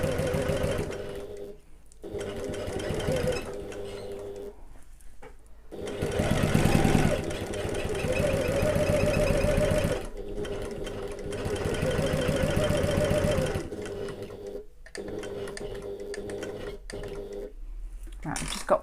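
A sewing machine stitches around a long box-shaped bag panel in repeated runs of rapid, even whirring that stop briefly for pivots at the corners, close and clear, with occasional speech between the bursts.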